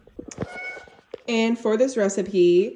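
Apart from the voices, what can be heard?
cat meowing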